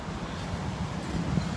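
Strong gusty wind outdoors beside a pickup truck buffets the microphone, a steady loud low roar and rumble with no pauses and no voices.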